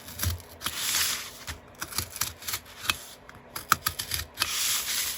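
Repeated cutting through layered material to shape a star at a workshop bench, a close run of scraping, slicing strokes with brief pauses, no talking.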